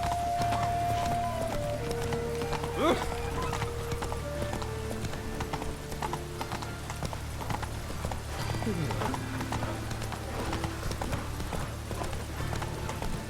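Roach the horse galloping in The Witcher 3, a rapid, steady clip-clop of hooves up close, with background game music and voices over it.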